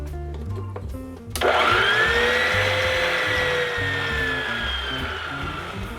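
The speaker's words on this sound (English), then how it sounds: "I'm going to let my electric machine mix it up a little bit" An electric stand mixer kneading bread dough starts abruptly and then runs as a loud, steady whirring hum that stays close and constant to the end, with no voices over it.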